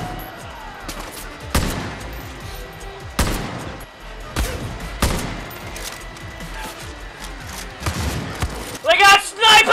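Sniper and rifle gunfire in the video game Far Cry New Dawn, several sharp loud cracks spaced a second or two apart with rattling bursts between them, and a voice calling out near the end.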